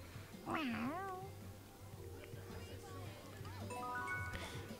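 A cat meows in the video game Tales of Xillia 2, a clear rising and falling call near the start followed by softer mewing sounds over a low steady game backdrop, with no one speaking.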